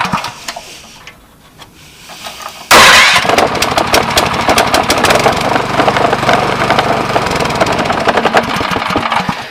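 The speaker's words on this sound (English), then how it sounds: "I mean, you could see the starter seems to turn around really fast and really easy." A DuraMax XP7.0HPE 7 HP engine is started on its electric starter: a quiet lead-in, then the engine fires abruptly and settles into a loud, fast, steady idle with rapid knocking pulses.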